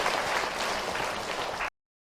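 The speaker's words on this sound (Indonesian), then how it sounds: "Tepuk tangan buat bunda yang bertanya." Audience applause during an Islamic talk, a dense burst of many hands clapping together that runs steadily for under two seconds and then stops abruptly.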